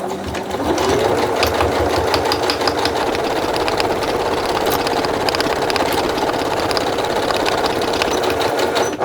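A sewing machine stitching two pinned fabrics together with a 5 mm seam, running loudly and continuously at steady speed with a fast mechanical whir and rattle, close by and alone.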